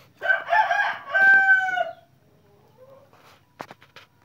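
An old decoy junglefowl rooster crowing once, close and loud, a harsh drawn-out call lasting under two seconds, followed by quiet and a few faint clucks.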